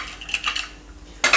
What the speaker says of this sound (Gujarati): હવે કુકરનું ઢાંકણું આપણે બંધ કરી દેવું